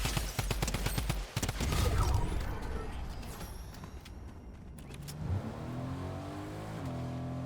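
A car drives in the Fortnite video game, its engine revving and pulling, with rapid gunfire bursts crackling over it early on, then a rougher rumble and rising engine tones.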